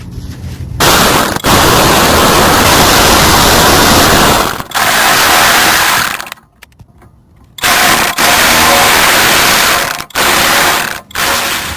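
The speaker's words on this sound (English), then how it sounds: "take your two T25s on each side and tighten it down" Power tool driving and tightening T25 screws on a Chrysler 200 during a radiator replacement, several loud close ratcheting bursts separated by short silent pauses.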